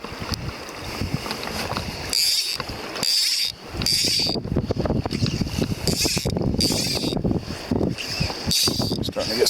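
Wind gusting across a cold river while fly fishing for midges on the Middle Provo, a steady broadband rush with bursts and buffeting from the microphone, alongside rippling water and occasional voices.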